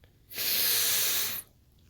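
A single deep, forceful breath during a yoga session, a loud airy hiss lasting about a second through the nose or mouth, close to the microphone, framed by quiet room tone.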